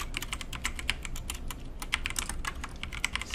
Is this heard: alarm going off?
no